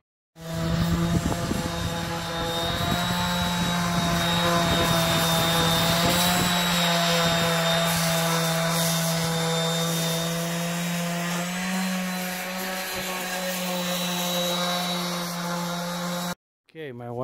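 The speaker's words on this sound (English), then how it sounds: "Just doing the first sanding pass with 80 grit" A power sander works cedar wood with 80-grit paper, a loud steady droning whir with a strong low hum and rough scratchy texture, running continuously for about sixteen seconds before stopping briefly.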